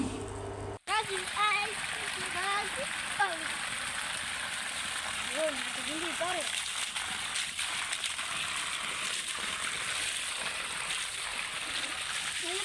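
Well water gushing from a pipe splashes steadily across a garden bed, a continuous wet spatter from start to end, with several people talking over it at times.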